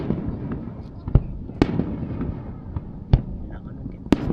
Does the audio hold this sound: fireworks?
yes